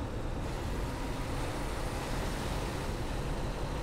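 A constant, loud broadband whoosh of a bus air conditioner in the Tourist Bus Simulator game fills the cabin, steady and unbroken with a low engine hum beneath it.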